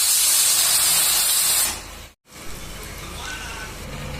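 A pressure cooker whistle releasing steam in a home kitchen, heard as a loud, broad hissing blast that cuts off abruptly, then a quieter, steady hiss continues afterward.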